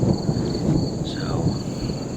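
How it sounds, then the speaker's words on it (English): Thunder rolls in a deep, continuous rumble during a heavy storm at an off-grid cabin campsite, close and loud over steady rain, with no break across the stretch. "the thunder is quite active, or quite frequent, I guess I should say"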